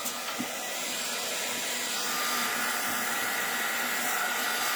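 A handheld heat tool set to its lowest heat blows hot air over painted playing cards, giving a steady, close hiss that starts after a brief click and keeps going without a break.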